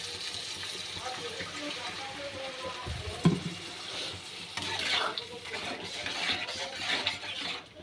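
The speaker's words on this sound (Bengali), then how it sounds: "এবার আমি জল দিয়ে দেব" Water poured into a cooking pot over frying masala, a soft gush and sizzle with a clunk partway through, heard under a voice in a home kitchen.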